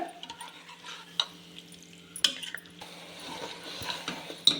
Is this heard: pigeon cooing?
no